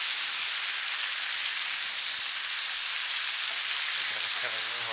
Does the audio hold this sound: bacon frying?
yes